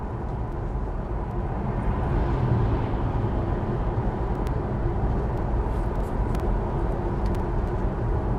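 An old car engine runs steadily for several seconds, a constant low rumbling drone with faint ticks, nearby and unbroken.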